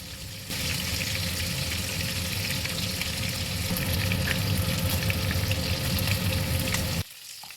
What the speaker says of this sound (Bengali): আরেকটা পিঠও একটু লাল লাল করে ভেজে নেবো